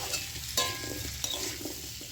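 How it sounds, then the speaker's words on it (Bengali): Potatoes frying in a pan with salt and turmeric, a steady close sizzle with faint scraping stir sounds throughout and no voices. "তো এবার আলুটা আমি লাল করে ভেজে নেব"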